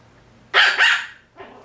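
A Maltese puppy barks twice in quick succession at close range, loud and sharp, followed by a softer short yip.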